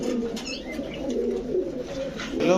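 Rampuri pigeons coo softly and repeatedly at close range, their low throaty calls running continuously through the clip.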